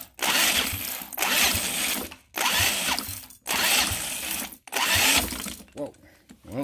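A see-through engine fitted with EFI and a turbo cranks on its first start attempt, a loud whirring starter grind in five bursts separated by short pauses, with a voice heard faintly near the end.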